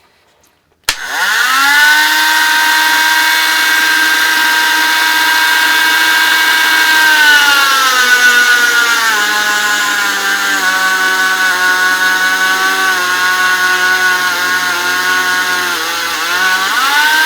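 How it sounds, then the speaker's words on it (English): A Hart rotary tool on middle speed whines up to speed and drills steadily into oak, loud and close, its pitch sagging slightly as it bites deeper. "Let's see how easy it is to drill into this piece of oak."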